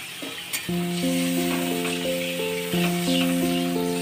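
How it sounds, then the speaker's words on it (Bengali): Water poured into frying spice masala in a pan for a Bengali shol fish and mango curry sets off a sudden, sustained sizzle that jumps up partway through, with steady background music tones throughout. "মশলাটা কষানো হয়ে গেছে, এবার আমি অল্প পরিমাণ জল দিয়ে দেব।"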